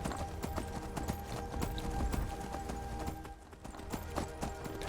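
Steady, rhythmic clip-clop of horse hooves at a trotting pace in the modded video game Skyrim Special Edition, loud and close, with no talking over it.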